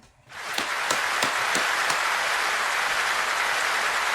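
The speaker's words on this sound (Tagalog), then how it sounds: "Para sa House of Representatives, isa pong malaking palakpak para sa inyo." An audience bursts into sustained applause for the House of Representatives, starting with a few distinct claps that quickly swell into a loud, steady wall of clapping from a large crowd.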